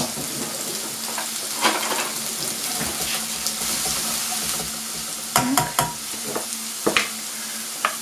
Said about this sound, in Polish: Cebulkę musimy zeszklić.